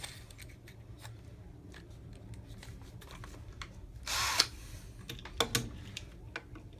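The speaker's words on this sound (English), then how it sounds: "we're just going to drill the heads of these rivets off" A power drill with a larger bit cuts the heads off the small rivets of a Hot Wheels toy car. Faint, brief whirring bursts and scraping clicks are set against quiet room noise.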